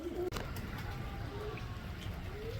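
Racing pigeon cooing near a loft in bad weather, a few soft low coos rising over steady background noise, moderately close, with no talk.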